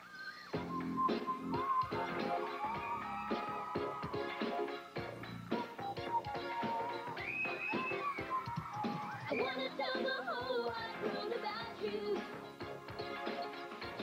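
A person whistling the melody of a pop song, a clear sustained tune with sliding pitches over backing music, close and prominent throughout.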